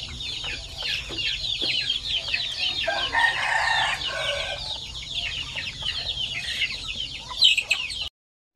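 A flock of chickens clucks busily and nearly nonstop, with a rooster's crow rising in the middle, all close and fairly loud over a low background hum.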